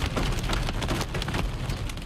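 Heavy rain and light hail pelt a car in a storm north of Crookston, a dense, steady drumming roar with scattered sharper taps throughout, close and loud with no voices.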